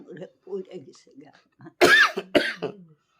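Two sharp, close coughs break in after a stretch of quiet talk, one right after the other, with a little more speech between and after them.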